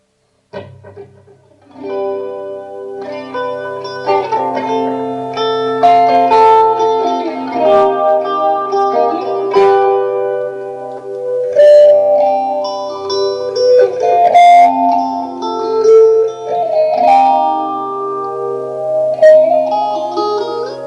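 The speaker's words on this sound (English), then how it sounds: "Now, this is with the flanger." An electric guitar plays a melodic, chiming line through a BADCAT Cougar 50 amplifier with a flanger giving a sweeping, swirling modulation and some reverb.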